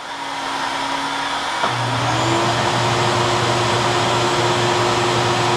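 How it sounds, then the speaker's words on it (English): A vacuum cleaner runs loudly and steadily, sucking spent .223/5.56 brass casings, its motor tone shifting upward partway through as the suction changes, with no talk. "Turn my vacuum cleaner on and suck out the brass from the side"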